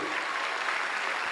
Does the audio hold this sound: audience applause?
yes